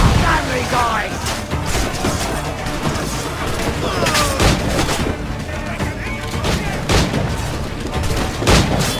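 Naval cannons fire from a pirate ship in the video game Assassin's Creed, with repeated heavy booms in a dense barrage, clanking mechanisms, and shouting voices underneath.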